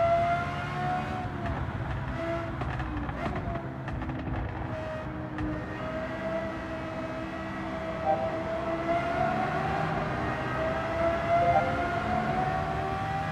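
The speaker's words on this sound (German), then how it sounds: "Ich musste mal ganz kurz mit dem V10 mal ganz kurz ein bisschen Klangspiel geben." Lexus LFA V10 engine in Gran Turismo 7 holding a steady, droning high-revving note with rising and falling harmonics, loud and continuous, with no talking over it.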